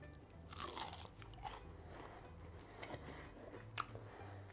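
Crisp, crunchy bites and chewing of a deep-fried garlic pork chop, heard close up as a series of irregular crunches, fairly quiet with no talking.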